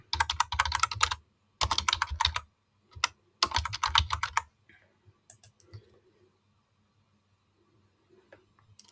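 Someone types a prompt on a computer keyboard in several quick bursts of dense key clicks, then a few faint, scattered taps in near silence.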